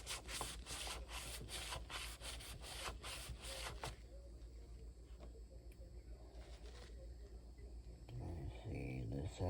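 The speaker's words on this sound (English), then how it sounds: "Now, go ahead and wipe the excess away." Excess oil is wiped off the wooden handle of an old Klein Tools pocket knife with a cloth. Close, soft rubbing strokes repeat in a quick rhythm, then ease into quieter handling.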